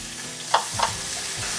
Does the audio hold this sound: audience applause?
no